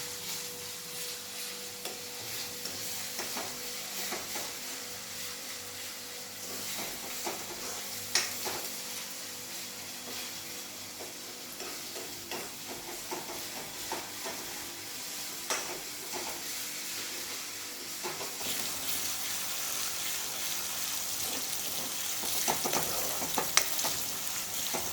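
Sliced onions fry in hot oil until pink for a dry cauliflower and pea dish, giving a steady, close sizzle that runs throughout with occasional light stirring clicks and no talking.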